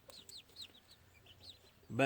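A gamefowl hen on a farm gives soft, quick clucks and chirpy calls close by, several short notes in a loose rhythm, before a louder sound cuts in at the end.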